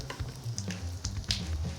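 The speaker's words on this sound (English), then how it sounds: "So we threw about half an onion into the pan, 2 garlic cloves" Onions and garlic sizzle and fry in a hot wok-style pan, a crackling hiss broken by stirring scrapes and soft squishes, close and fairly quiet with no talking.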